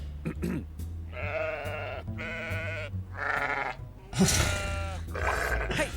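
Several sheep bleat in an animated video, a series of loud, wavering bleats one after another with short gaps, close by and without speech.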